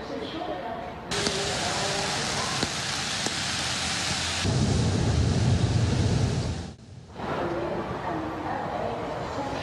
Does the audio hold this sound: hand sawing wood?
no